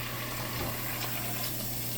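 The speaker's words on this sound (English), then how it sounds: "Throw some warm water in it." Warm water is poured into a thick cooking pot, making a faint, steady gushing fill over a low background hum. No one speaks.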